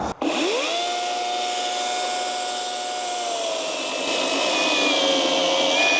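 A ProCraft PCA42/2 cordless battery chainsaw runs steadily through a log up close, its high motor whine holding loud and even for the whole stretch with no voices over it.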